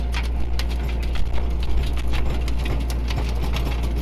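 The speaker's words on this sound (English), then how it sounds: "there's the old tractor." An old tractor working a garlic field runs at a steady, low chugging idle with faint rattles over it, fairly close and with no voices.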